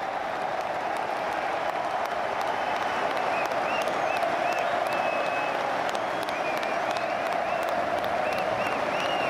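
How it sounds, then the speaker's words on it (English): Crowd in a stadium at a Serie A football match between Sassuolo and Milan applauding a departing player: sustained, even clapping from a large crowd with faint scattered whistles above it and a constant roar beneath. "Stefano Pioli leading the applause for an Englishman"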